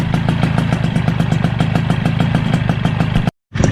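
A Suzuki Crystal motorcycle engine idles close by with a steady, rapid, even clatter that holds throughout, then cuts out abruptly for a moment near the end before returning.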